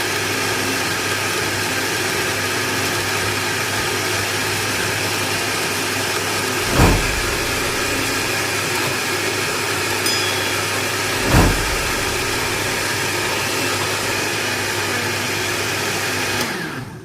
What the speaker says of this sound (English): Now it's time to just cover and blend, guys. Blend until smooth.